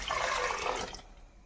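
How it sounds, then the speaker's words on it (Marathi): Water poured into cooked dal (varan) in a pot while making chakolya, a steady close pouring splash lasting about a second before stopping abruptly. "पाणी टाकून घ्यायचं आहे."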